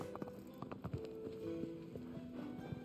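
Horse hooves clip-clopping in Shadow of the Colossus, a quiet run of irregular hoof thuds over a low ambient game tone.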